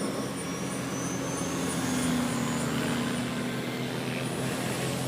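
Engine of an Avro Canada VZ-9 Avrocar, a saucer-shaped VTOL aircraft, giving a steady droning roar with a sustained low hum and a faint high whine, continuous and fairly distant throughout.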